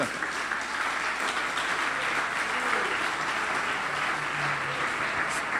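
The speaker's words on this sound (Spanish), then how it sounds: "Dale un aplauso al Señor." A Spanish-speaking church congregation applauds during a Father's Day service, continuous, fairly loud clapping from many people that holds steady throughout, with a faint voice briefly audible beneath it.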